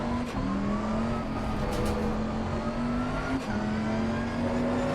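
A Bentley GT3 race car engine at Silverstone in Assetto Corsa Competizione drones steadily and loudly at close range, its pitch rising gradually with a brief drop at each gear change, with no talk.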